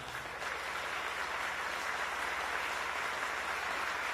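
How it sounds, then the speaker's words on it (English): Audience at a remarks event in an automobile factory applauds with a steady, dense wash of clapping that holds at an even level throughout, without speech. "Give yourselves a round of applause."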